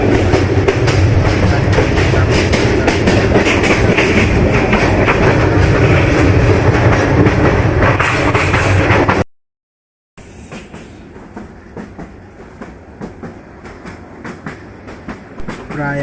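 A passenger train runs along the railway between Kishoreganj and Narsingdi in Bangladesh, a loud steady rumble with clickety-clack from inside a carriage, then a brief cutout before quieter, rhythmic wheel clatter resumes.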